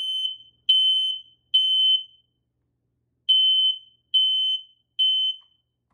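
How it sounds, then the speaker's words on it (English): Smoke alarm sounding in two groups of three loud, piercing beeps, each tone about half a second long, separated by a short pause, heard close and alone. "It's gonna make 3 loud beeps"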